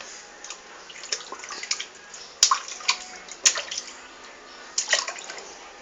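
Bathwater splashing and dripping in a tub as someone plays, with sporadic splashes and sharp drips over a steady watery hiss, fairly close.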